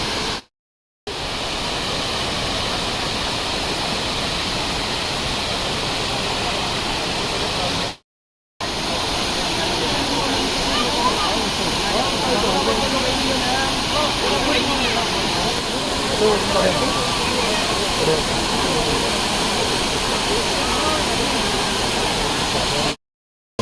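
Abbey Falls near Madikeri in Coorg pours down as a constant broad roar of rushing water, loud and unbroken apart from two brief cuts, with voices occasionally present over it.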